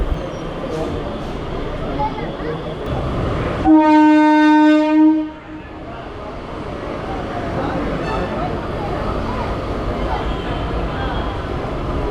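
A train horn on the Tiruttani to Chennai Central suburban line sounds one loud sustained blast of about a second and a half amid steady rolling rail noise and background chatter, with people talking throughout.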